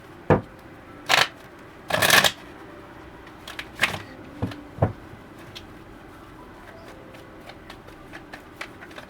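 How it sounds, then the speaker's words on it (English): Tarot cards shuffled and drawn during a reading: a few sharp riffling bursts, the loudest about two seconds in, followed by scattered soft snaps and taps as cards are pulled, close and with no talking. "I'm being asked to pull some more cards, actually."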